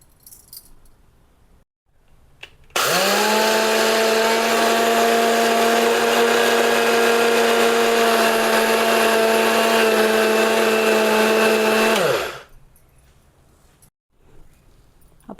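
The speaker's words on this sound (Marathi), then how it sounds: "आपण आता हे ग्राइंड करून घेऊया." A kitchen mixer grinder pulverising roasted flattened rice (poha), starting abruptly and whirring at a loud, steady high-pitched drone for about nine seconds before winding down, with quiet pauses on either side.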